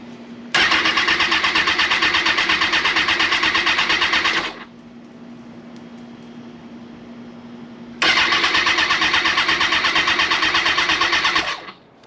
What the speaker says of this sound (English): Obviously, the bike is not starting.